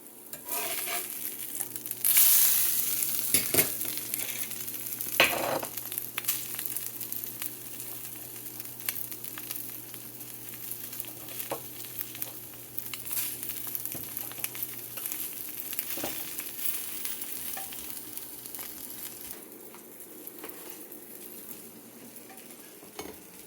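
An egg frying in butter in a pan sizzles steadily and close, with a louder crackling burst early on that gradually settles into a softer, even hiss, with no voices.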